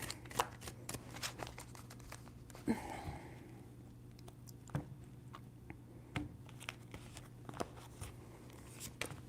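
Tarot cards being shuffled by hand, giving soft riffling and papery flicks in several bursts over a steady low hum, close and fairly quiet.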